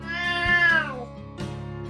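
A cat lets out a long, loud, close meow that bends downward, followed by a shorter second meow a moment later.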